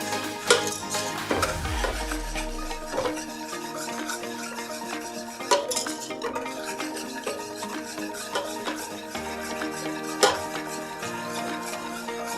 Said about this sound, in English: don't stop mixing, because the minute you do, it will burn on the saucepan